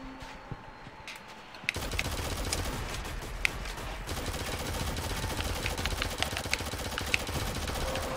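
Gunfire erupts in the shooter game Shadowgun Legends: a quieter stretch with a few isolated shots, then dense, rapid bursts of shots continuing to the end.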